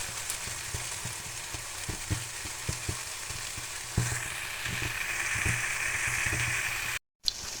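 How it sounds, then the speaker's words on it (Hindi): Potatoes and tinda (apple gourd) curry ingredients frying in a pan: a steady, close sizzle with scattered scraping stir strokes, continuous throughout with one brief dropout near the end. "अब इसके बाद हमने इन सब को फ्राई करना।"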